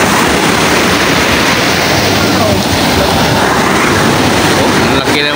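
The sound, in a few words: large sea waves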